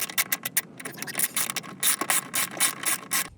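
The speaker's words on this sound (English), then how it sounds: "there to the point where you need a ratchet, use a 10mm deep drive" A ratchet with a 10mm deep drive socket clicks in quick repeated bursts while tightening a bolt during a rear seat delete install in a 2016-2024 sixth-generation Camaro, close and clear with no talking.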